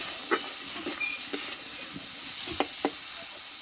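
Soybean and tomato masala sautéing in a pan, with a steady soft sizzle and hiss broken by scattered stirring scrapes and small pops, heard close with no voices.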